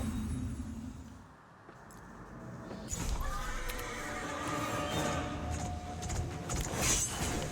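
A horse neighs in the video game Lords of the Fallen, a loud whinny amid combat clatter and crashes, with a brief quiet dip before the noise swells again.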